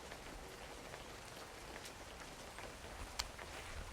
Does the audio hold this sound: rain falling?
yes